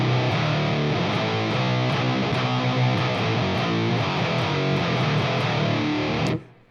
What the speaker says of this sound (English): And then I just kick in like a fuzz.